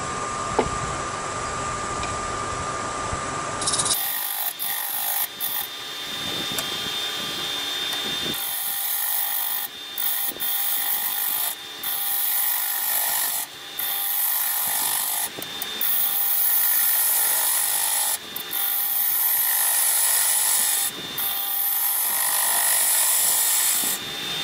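Maple vessel turning on a wood lathe at about 1,000 RPM, a steady scraping, rubbing tool-on-wood sound running continuously with brief dips as the cut shifts, close and fairly loud with no talking.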